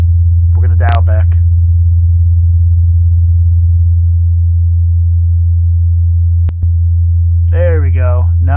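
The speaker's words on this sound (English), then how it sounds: "now what we have on playback is just a tone" A tone generator plays a loud, steady low sine tone, unbroken apart from a tiny dropout, while someone speaks briefly over it at the start and end.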